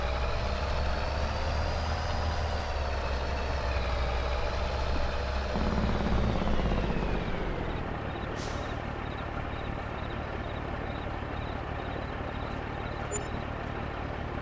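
Truck engine idling in Farming Simulator 22, a steady low diesel rumble with a tonal drone that shifts down midway and then settles into a quieter constant idle.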